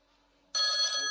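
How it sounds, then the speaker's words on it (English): A telephone bursts into loud ringing halfway through, cutting in abruptly after near silence, at a flooring job where concrete is being prepared for a wood floor. "There goes my phone."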